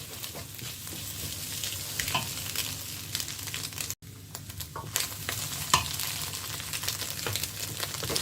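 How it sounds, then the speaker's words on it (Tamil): Egg and anchovy mixture is stirred in a pan over low heat, with continuous scraping and a gentle steady sizzle and irregular spoon strokes throughout. "லோ ஹீட்டில் அடுப்பை வச்சுக்கொண்டு இதை இப்படி கிளறி விடுங்கோ"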